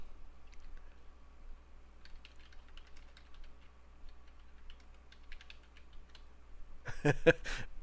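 Light, scattered keystrokes tap on a computer keyboard at low volume, then a fast, louder burst of typing close to the microphone near the end.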